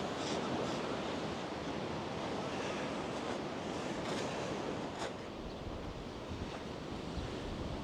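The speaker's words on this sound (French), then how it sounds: "C'est quand même beau la mer. Bon là c'est la marée montante." Continuous roar of sea surf at rising tide, waves washing in and breaking with a broad hiss, mixed with light wind off the sea buffeting the microphone.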